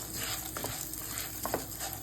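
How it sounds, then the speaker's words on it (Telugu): Lentils and dals being stir-fried in a pan, with a steady low sizzle, a scraping stir and a couple of louder spatula knocks against the metal, close by and without talk. "పప్పు దినుసులు వేయించేస్తాను."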